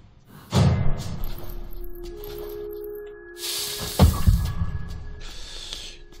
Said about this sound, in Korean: 자꾸 뭐가 그냥 두근두근 거려요